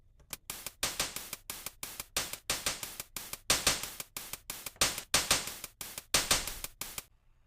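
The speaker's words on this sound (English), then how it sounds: "So here's the hi-hat groove." A bright, noisy hi-hat made from white noise, played in a steady groove, short ticks alternating with longer open hisses, repeating evenly and close-up, somewhat like a drumstick sound.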